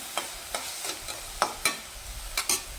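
Sandwich filling with green chillies sautéing in a pan: a low sizzle runs throughout while a spoon scrapes and taps the pan in irregular, close strokes.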